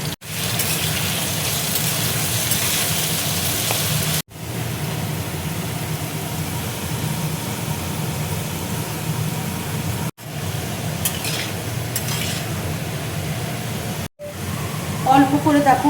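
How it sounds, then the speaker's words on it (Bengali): Sliced potatoes sizzling steadily in hot oil in a home kitchen pan for okra sabji, a constant broadband hiss broken by a few brief pauses, close and fairly loud. "তেল দেখো গরম হয়ে গেছে। এবার দেখো আলুটা আমি দিয়ে দিচ্ছি।"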